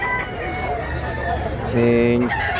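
Native chickens at a busy poultry market in Tabunok, Talisay, Cebu, with a rooster's crow rising near the end over steady crowd noise and a talking voice.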